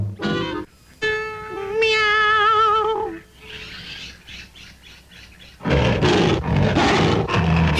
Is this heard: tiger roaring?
yes